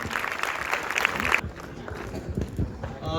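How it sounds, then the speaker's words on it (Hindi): Brief applause for a student's second-place exam rank at a school gathering, a short burst of clapping that cuts off after about a second and a half, followed by quieter room noise and voices. "और तालियां बजाए बेटा, बहुत बड़ा अचीवमेंट है ये।"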